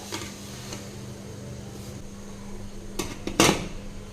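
A metal idli plate is set into a pot of boiling water for rava idli, giving a sharp clatter and clink of metal on metal against a low steady bubbling hum.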